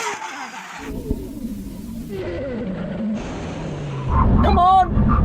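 Red Bull RB7 Formula One car, Lamborghini Huracán and Nissan GT-R braking hard from 100 mph, a loud rushing engine and tyre roar that shifts pitch, rising to a sharp squealing sweep near the end, with voices underneath.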